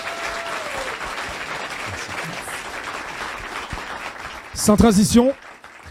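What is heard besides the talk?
audience applause for a singer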